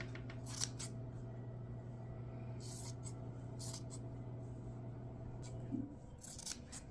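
Scissors snip across a t-shirt to cut it into strips, a series of short crisp cuts in bursts, close but faint over a low background hum.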